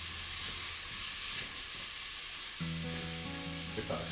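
Berbere spice mixture sizzles and hisses as it fries in a pan, with a spoon stirring through it for a short stretch; a steady broadband crackle holds throughout, and no one speaks.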